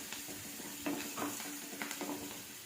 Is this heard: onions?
yes